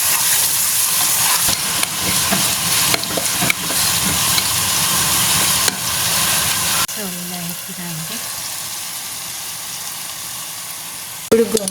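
Chicken pieces frying in hot oil for gongura pickle, a steady loud sizzle and hiss throughout, briefly quieting as the pan settles, with a short voice heard near the end.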